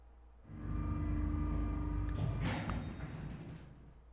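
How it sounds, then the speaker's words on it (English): An elevator door in the video game 999 slides open with a low mechanical rumble and hum that swells, holds for a few seconds, then fades. "He pushed it and the door opened."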